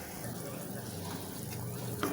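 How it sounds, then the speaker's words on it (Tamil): A herbal kashayam decoction, a home remedy for cold, fever and cough, boils in a pot, giving a steady close bubbling hiss that runs unbroken throughout with no talking. "ஒரு 10 நிமிஷமாக அப்படியே கொதிக்க விட்டுருக்குறேன்."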